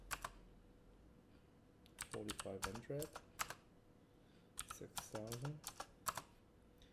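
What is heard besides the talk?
typing on a computer keyboard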